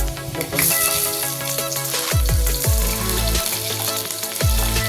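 Shallots and garlic sauté in hot oil with mustard seeds and dried chilli, a bright steady sizzle close by with clinks and scrapes of a spoon against the pan, no talking.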